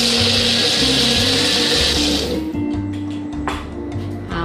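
A kitchen blender blending corn kernels, loud whirring grind for about two seconds, then slowing to a lower churning hum that fades slightly.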